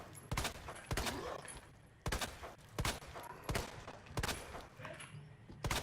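Rapid bursts of gunfire from Resident Evil 2, played as Leon on Hardcore, several loud volleys in quick succession with short gaps between them.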